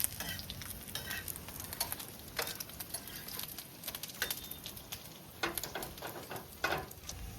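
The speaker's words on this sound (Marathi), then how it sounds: "तेल टाकून मसाले भाजून घेऊ आता." Spices crackle and sizzle in hot oil on a rural wood-fired chulha while making a Nagar-style dried bombil fish curry, a soft steady frying hiss broken by scattered pops and stirring scrapes, with no talk.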